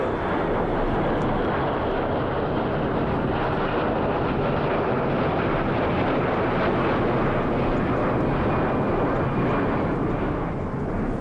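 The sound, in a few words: airplane engine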